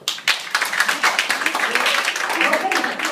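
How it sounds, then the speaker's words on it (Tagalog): A church congregation claps together during a Filipino service, a brisk burst of many hands that starts after a short pause and continues steadily, fairly close. "Yung mga sure, pumalakpak."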